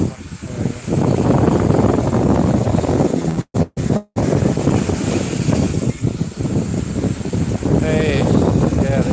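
Heavy wind buffets the microphone in a loud, rumbling roar that barely lets up, with a person talking underneath and a brief dropout midway, on Playa Delfines beach in Cancun, Mexico.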